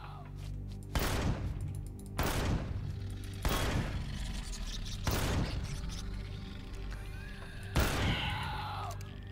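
Gunfire in the space-survival video game Empyrion Galactic Survival: five loud, separate shots land roughly a second or more apart over a steady in-game background hum, with no talking.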